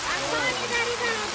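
Spring water at the Chashma Shahi garden flows downhill in a steady, loud rushing wash with no break, heard close up.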